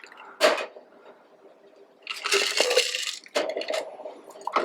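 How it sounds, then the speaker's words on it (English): A Penicillin cocktail is poured over ice in a glass, giving short crackling bursts of liquid hitting cubes and clinking ice, separated by quiet gaps, close and moderately loud. "We don't want to over dilute that drink, so it's gonna go over ice."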